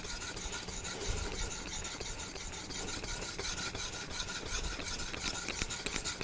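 A convex knife blade scrapes back and forth across a Naniwa diamond whetstone in a continuous gritty rasp, steady and close at low volume with no voices.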